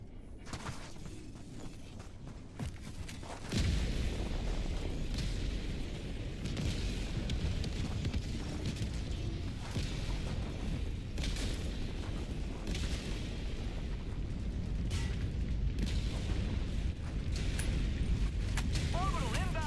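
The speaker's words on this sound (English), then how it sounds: "Orbital barrage incoming." Rumbling, booming blasts of an orbital barrage in the video game Helldivers 2, starting as a sudden heavy rise after a quieter opening and continuing as a dense, sustained roar of repeated explosions to the end.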